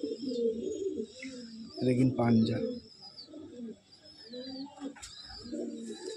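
Pigeons coo softly in a loft at Bamangachi, bloodline birds with closed tails, their low calls and a few chirps running throughout under steady close conversation.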